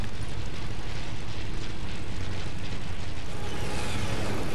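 An airplane in a video game, a steady broadband engine roar with a faint rising whine, loud and continuous throughout with no voices.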